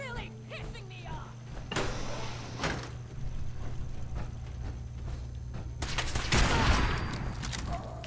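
Rapid gunfire bursts from Fallout 4 with the Sim Settlements 2 mod ring out amid game sounds, strongest near the end, while someone talks over the action.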